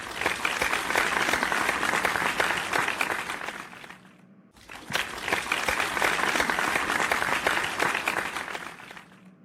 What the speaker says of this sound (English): Okay, class, give some applause for yourself.